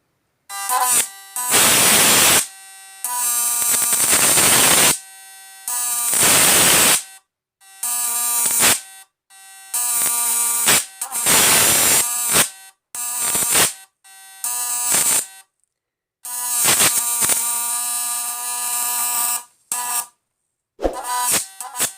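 An electric fishing machine run off two transformers shorts out with a harsh, welding-like buzz. It comes in loud repeated bursts of several seconds each, broken by short silences.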